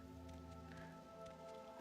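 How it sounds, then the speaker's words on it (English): Steady rain falls in the open world of the video game Morrowind, a soft continuous hiss with scattered drops layered over sustained tonal game music, level and unbroken throughout. "Starting to rain. Delightful."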